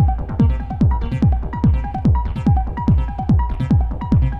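Modular synthesizer sequence, its steps slightly randomized by the shred function on a Mimetic Digitalis sequencer, plays as loud, rapid plucky notes with sharp attacks and falling pitch sweeps in a steady repeating rhythm, with no voices.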